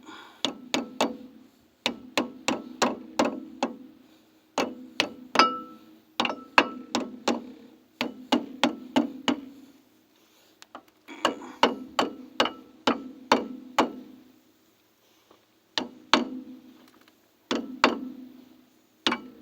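A hammer taps a wheel bearing race onto the spindle of a 1991 Firebird 3.1 V6, sharp metallic strikes in quick bursts of several blows separated by short pauses, close and clear with no talking.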